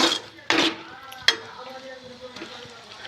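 Tomato is stirred as it fries in a pan while Maggi noodles are being made, with a few sharp spoon clinks against the pan over a soft, steady sizzle. A voice speaks faintly underneath.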